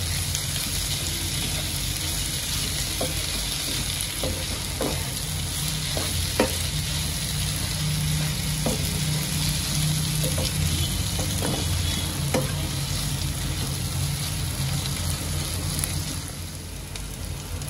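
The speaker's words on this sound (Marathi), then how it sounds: "आता कमीत कमी 5 मिनिटापर्यंत तेलामध्ये चांगलं याला परतून घेते" Tomatoes sautéing in hot oil for a Malvani prawn chutney, giving a steady close sizzle with scattered scraping knocks from a stirring spoon against the pan and no talking.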